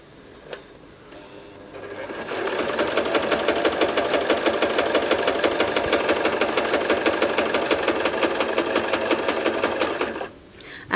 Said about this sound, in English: we're going to stitch all the way around